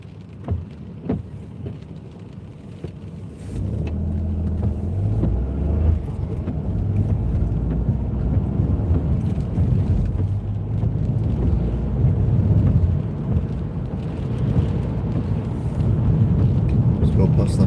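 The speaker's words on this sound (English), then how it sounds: "That noise is the wind." Steady wind rushes and buffets against a car dashcam on a rainy night drive in the UK, a constant broad roar under road noise, with someone talking over it at the start.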